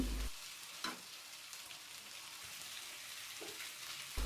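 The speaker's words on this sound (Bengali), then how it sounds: "মাছগুলো দিয়ে ভালোভাবে নাড়াচাড়া করে তিন চার মিনিট কষিয়ে নেব" Shing (stinging catfish) pieces sizzle steadily in a hot pan, a dense, even frying hiss with a few soft scraping stirs, close and continuous with no talking.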